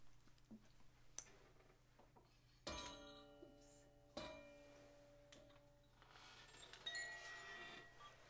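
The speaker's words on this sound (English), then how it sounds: "They're beautiful little chimes." Small chimes ring softly in a quiet room: two clear struck tones with long, shimmering decays, then a lighter cluster of tinkling notes, faint and close, with no talking.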